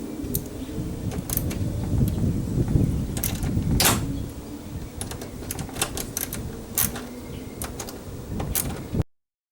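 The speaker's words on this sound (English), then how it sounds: "Take our 10mm socket and a ratchet." A ratchet with a 10mm socket works loose the side mirror fasteners on a 2002-2006 Honda CR-V, giving a run of sharp, fairly close mechanical clicks in irregular bursts over a low background rumble.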